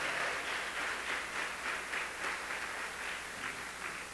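A church congregation applauding during a service, a moderate, continuous patter of many hands with gentle swells, heard somewhat distant and without voices.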